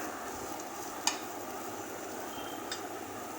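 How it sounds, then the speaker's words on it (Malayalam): Chopped onion stirred and sautéed in a pan, giving a quiet steady sizzle with a couple of faint scraping clicks from the spoon, with no talking. "സവോള ഒന്ന് നന്നായിട്ടൊന്ന് ഇളക്കി ഒന്ന് നമുക്കൊന്ന് മൂപ്പിച്ചെടുക്കാം"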